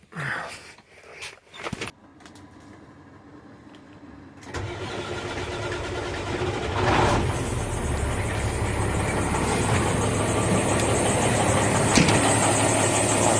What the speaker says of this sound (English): Alright, time to fire the old truck up.